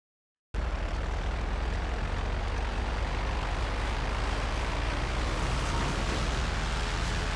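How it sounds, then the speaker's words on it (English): A propeller stunt plane in GTA Online drones steadily after a brief silence, a loud continuous engine roar holding constant without pause. "there is something flying, but that's probably a propeller stunt plane"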